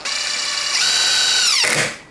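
A DeWalt impact drill driving a socket whines steadily at high pitch, then the tone drops and rattles as the bit bites in, ending abruptly. Close and loud, no talking.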